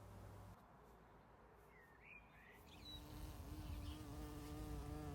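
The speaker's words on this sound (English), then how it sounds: "Insects are in the garden" Insects buzz around a small north-facing garden with a potted birch in mid-June, faint droning flights passing close to the microphone over a quiet background, with a bird chirping briefly.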